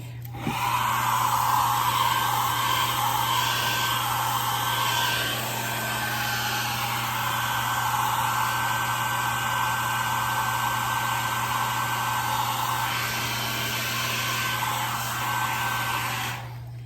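A hair dryer blows a loud, steady roar with a constant hum underneath as it dries white paint on a wooden sign, running close by for over fifteen seconds with no speech.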